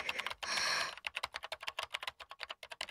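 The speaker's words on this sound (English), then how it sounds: "I spoke loudly to keep up with the sound of fingers hitting keys." Fingers type rapidly on a computer keyboard in a visual novel game, starting with a short burst of noise and then a dense run of crisp, close keystrokes with no voices.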